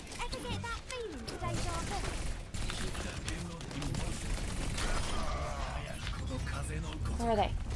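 Gunfire in the video game Overwatch, a busy, steady stream of shots and clattering weapon noise running through the whole stretch amid other game sounds.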